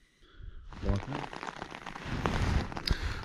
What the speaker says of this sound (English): So it's raining outside. I don't know if you can hear that.